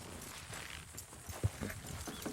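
A team of horses hauls a wagon in Red Dead Redemption 2, their hooves clopping faintly and irregularly in a short burst, with one slightly sharper knock midway.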